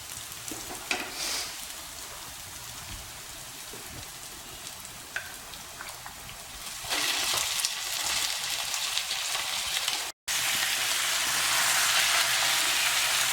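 Chicken pieces with onion, garlic and ginger paste sizzle steadily in a hot pan for chicken Peshawari, a continuous close crackle that grows louder and brighter partway through, with a brief cutout near the end.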